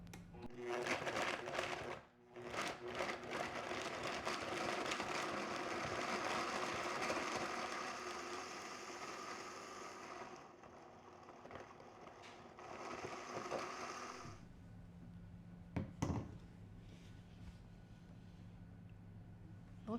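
An electric grinder whirs continuously while pulverizing dried beef liver into powder, loud and dense for most of the clip before the motor tone drops and settles into a lighter hum near the end.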